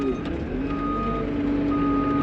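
A tracked machine reverses on a pit bike track build site, its backup alarm beeping steadily over a loud running engine rumble, close by and continuous.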